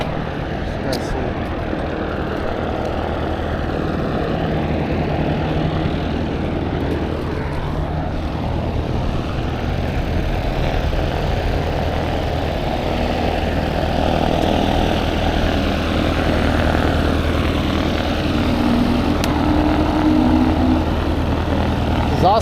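A large aircraft taxis at an airport, a steady broad engine roar that continues without a break throughout, heard from a distance across open ground.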